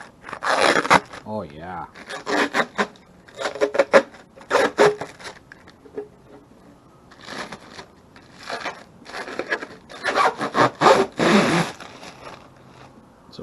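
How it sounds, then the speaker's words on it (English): Protective film being peeled off a new 2018 Ram tail light, giving repeated rasping, zipper-like tearing bursts in several close bursts, with someone speaking briefly between them. "Get ready for some peeling action."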